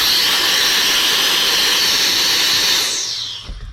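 A Meco mini air blower runs continuously with a loud, steady high-pitched hiss as it blasts dust out of car seats, then winds down and cuts off near the end.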